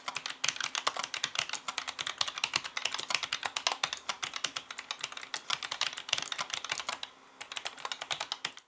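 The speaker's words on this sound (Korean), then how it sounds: "축은 화이트로 둔탁한 느낌이 들긴 하지만 기계식 스위치가 사용된 만큼 그 어떤 노트북보다 키감이 좋았습니다" Fingers type on the built-in mechanical keyboard of a 16-inch laptop with low-profile white switches, producing a steady, close stream of dull, rapid keystrokes that pause briefly once, with no voices.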